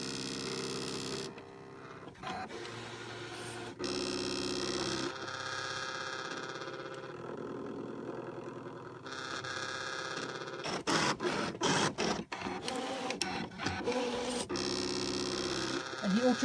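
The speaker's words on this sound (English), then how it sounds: "we're doing a test cut first. And we're then going to tell the machine to go ahead and cut it." A cutting machine makes a test cut on an unusual, thick-feeling material. Mechanical whirring and buzzing sections alternate with pauses, then closer rapid clicks and rattles in the second half, moderately loud and without talk.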